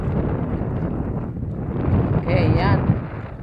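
Steady wind rumbles across the microphone outdoors on a squid-fishing trip, with a voice speaking over it partway through.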